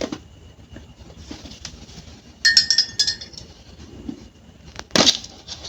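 A metal spoon clinks against a glass while sugar is stirred into homemade lemon syrup. Several bright, close rings and taps come in short bursts, with a louder strike near the end.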